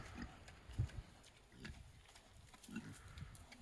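Pigs grunting on a farm at feeding time as feed pellets are tossed to them: a few low, rough grunts spaced a second or so apart, fairly faint and close, over quiet outdoor background.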